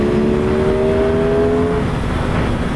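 A 2021 Yamaha R1 motorcycle engine holds a steady, loud drone with a rising tone for about two seconds, then settles into a rough, rumbling idle, with wind noise constant throughout.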